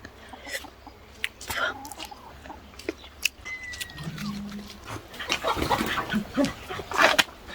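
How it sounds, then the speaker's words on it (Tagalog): Chickens cluck and squawk in short, scattered bursts nearby, with occasional louder calls and rustling amid outdoor background noise. "Yan yung mga manok ni Bianan."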